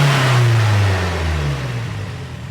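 A built 500-horsepower engine in a 1979 Toyota Corolla drones loudly and steadily up close, its pitch easing down slightly as the revs settle.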